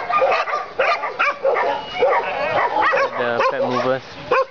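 Several dogs bark and yip at a dog pound in quick, overlapping bursts, with whimpering and a low grunting sound mixed in, fairly close and continuous.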